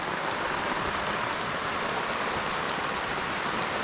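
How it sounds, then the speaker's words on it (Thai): Heavy rain pours steadily at a fishing pond, a dense, unbroken hiss that stays loud and even throughout with no voices. "ครับล่าสุดฝนตก"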